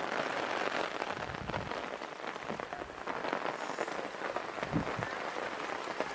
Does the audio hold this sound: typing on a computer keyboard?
no